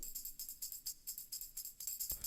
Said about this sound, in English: Then we got a tambourine loop